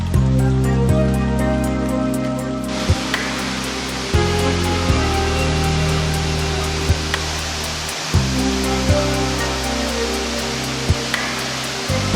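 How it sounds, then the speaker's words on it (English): A steady, roaring rush of falling water fills the whole clip, loud and constant, with a few faint clicks and bumps on top. "Let's start with the waterfalls."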